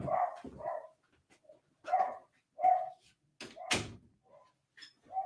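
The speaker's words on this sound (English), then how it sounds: "there's my dog" A dog barks repeatedly in a home during a live show, sharp barks in irregular bursts separated by silence, with a door-like thump partway through.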